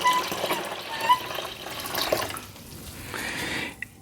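Water poured from a pint container into a countertop ice maker's reservoir, a soft splashing trickle for a few seconds, moderately quiet and close, with no voices.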